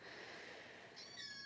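Young kittens kept isolated indoors give a few faint, thin meows near the end, soft and somewhat distant over a quiet room hiss.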